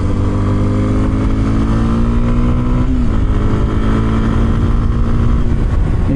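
A 2026 Kawasaki KLX 230 Sherpa S motorcycle engine while riding, a steady, loud, close drone that holds its pitch, briefly shifts around the middle, then carries on evenly with no voices.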